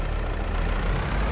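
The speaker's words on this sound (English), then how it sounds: "Oh, truck sounds good." Loud, steady diesel truck engine rumbling at idle in the video game Farming Simulator 22, deep and continuous with a gritty low-end growl.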